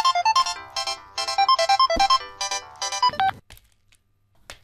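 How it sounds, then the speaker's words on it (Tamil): A mobile phone ringtone plays a bright repeating melody in loud bursts for about three seconds, then cuts off abruptly, leaving near silence with a faint sound at the end. "ஃபோன் வருது பாடுறா"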